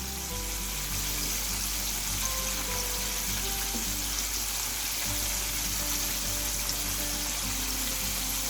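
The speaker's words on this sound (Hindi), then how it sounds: "आराम से साइड पलटते हुए सारी साइडों से हम फ्राई कर लेंगे।" Buttermilk-coated chicken pieces fry in hot oil KFC style, giving a steady, even sizzle and crackle that carries on throughout at moderate volume with no talk.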